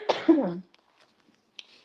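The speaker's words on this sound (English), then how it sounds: "The damn cough is trying to take me out the game." A single harsh cough, then a brief voiced tail and a few faint small noises in otherwise quiet surroundings.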